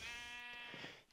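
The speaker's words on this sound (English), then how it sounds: "Quite loud sheep as well." A single loud, close sheep bleat in Minecraft, a drawn-out wavering cry of about a second that fades at the end, with no talk.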